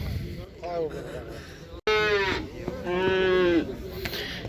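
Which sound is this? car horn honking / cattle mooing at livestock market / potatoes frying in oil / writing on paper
cattle mooing at livestock market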